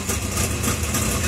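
A B-Mod dirt track race car at Clay County Speedway idles loud and close, a steady rough rumble with a rattling low throb and no pause.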